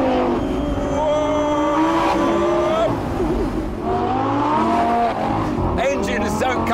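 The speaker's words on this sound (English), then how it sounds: "Engines don't come much better than this Lamborghini V10" A high-revving Lamborghini Gallardo LP570-4 Performante V10 climbs and drops through gears on mountain roads, rising howls and brief lulls as the car accelerates hard, with a voice talking over it.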